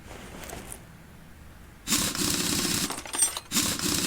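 Bursts of rapid mechanical ratcheting from a wrench removing a tire in Car Mechanic Simulator 2018 sound in two loud clusters after a quiet start, with no talk.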